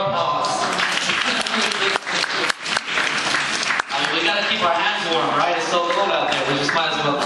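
Applause from an audience at a spoken word poetry event rolls on steadily, mixed with voices and cheering.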